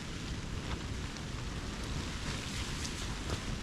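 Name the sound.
rain falling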